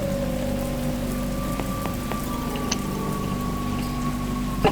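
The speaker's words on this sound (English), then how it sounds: "it's raining blood, y'all!" Rain falls steadily in the horror video game Lost In The Woods, a constant even patter under a low droning background hum, with no voices.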